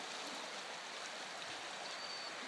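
Schlotz Creek runs in flood, a constant rushing wash of water. It holds an even level from start to finish with no voices.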